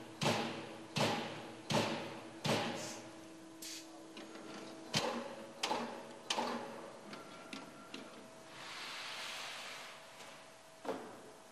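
A Boschert CP series CNC punching machine strikes sheet metal automatically in a steady series of loud, sharp thumps about a second apart. Between the hits there are steady mechanical hums and a brief whooshing pass, with no talking.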